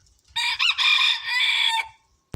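A single loud rooster crow rings out close by, a drawn-out rising and falling call lasting about a second and a half.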